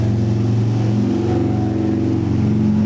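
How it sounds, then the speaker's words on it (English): A car engine revving and accelerating nearby in rush hour traffic, a steady droning rumble with rising pitch, loud and continuous with no speech. "rush hour's just beginning to kick in, so it's going to get a little noisy"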